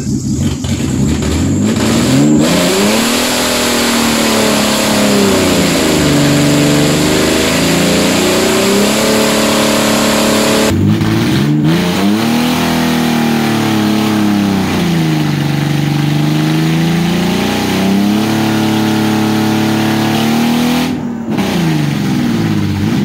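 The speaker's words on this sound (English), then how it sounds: "there's only one way to test out my welds, and that's to do a mean skid" BMW E46 drift build with a welded locked differential, engine revving hard and rising and falling in pitch during a skid, loud and close with no talk.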